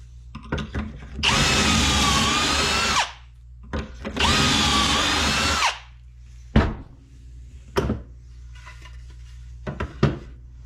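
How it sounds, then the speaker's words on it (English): A power drill bores pocket holes into a clamped board for window trim, two sustained whining bursts of about two seconds each, separated and followed by sharp clicks and clunks of the jig and clamp. "then I go to proceed to cut my pocket holes"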